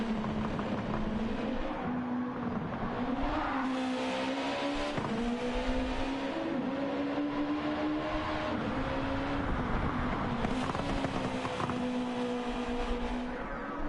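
Race car engine during a GT World Challenge race at Grand Valley, a steady sustained drone with slowly shifting pitch, continuous and moderately loud with no clear talk over it.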